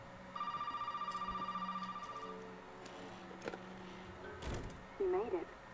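In Resident Evil 7, a telephone rings with a rapid electronic trill for about two seconds. Scattered thuds and movement noises follow, and a voice begins speaking at the end.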